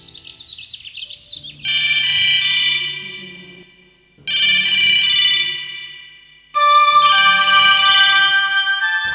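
A mobile phone rings with a bright electronic melody played in three long, loud phrases separated by short gaps, with a quick warbling chirp just before the first phrase.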